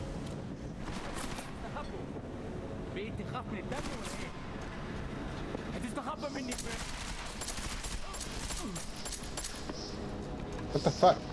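Rapid gunfire in the Deus Ex video game, bursts of shots rattling over a busy noisy backdrop with a few sharper cracks near the end, while a person talks.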